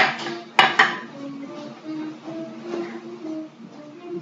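A palette knife scrapes and taps against a metal patty pan while lifting thin mince pie pastry, with a sharp clink near the start and a second one just after, then soft scraping and handling sounds.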